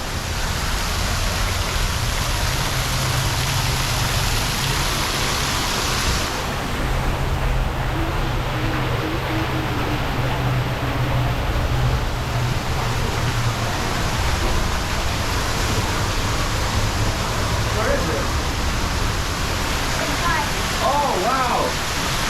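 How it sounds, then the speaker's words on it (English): Indoor waterfall at a San Antonio, Texas attraction, a steady broadband rush of falling water that fills the whole clip, with faint voices and a few brief sounds now and then. "Look at that waterfall."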